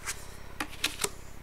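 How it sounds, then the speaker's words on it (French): Tarot cards being shuffled up close, a few quick riffling flutters and soft snaps over about a second. "On va prendre 5 cartes."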